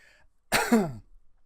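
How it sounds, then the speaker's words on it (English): A single short, raspy cough close by, a quick throaty burst lasting about half a second, with quiet room tone before and after. "I've got a bit of a cough coming on"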